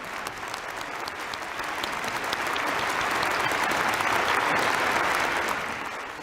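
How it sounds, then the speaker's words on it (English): A church congregation applauds during a Sunday sermon, a dense, steady wash of many hands clapping that swells toward the middle and eases off at the end, with no talk over it. "I would like to give my deepest applause to True Mother for finding this precious word."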